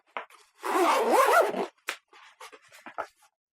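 A zipper on a GORUCK Bullet 10 backpack is pulled open in one long close-up rasp, followed by a few short scratchy tugs and rustles.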